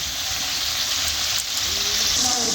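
Marinated chicken frying with spices in a pan for palak chicken, giving a steady, close, bright sizzle that holds evenly throughout.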